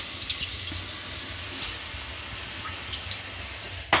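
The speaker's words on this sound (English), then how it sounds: "if I were to turn on my sink, which I will get up and do, water is gonna come out from the hole underneath" Water running steadily from a kitchen sink faucet, a continuous hiss with a few small splashes and a louder splash near the end, heard alone at moderate level.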